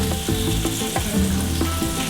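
Sucuk sausage slices caramelizing and crisping in a hot pan for an egg breakfast produce a loud, continuous sizzle and spatter close up, with no talk.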